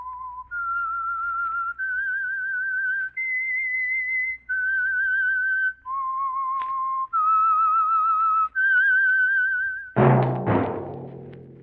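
A clear, melodic whistled tune of sustained notes, each held then shifting pitch, the theme of the old radio drama The Whistler, followed by a sudden crash of orchestral music.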